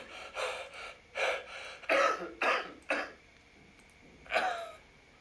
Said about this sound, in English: it's all cough sounds